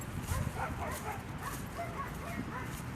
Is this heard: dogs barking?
yes